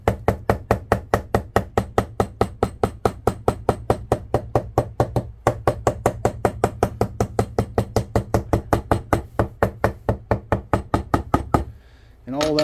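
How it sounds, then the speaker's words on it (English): A cobbler's smooth-face hammer knocks steadily along the edges of a leather belt, giving a long run of sharp, evenly spaced close taps before stopping near the end. "And then I like to take a cobbler's hammer, which is a smooth face hammer,"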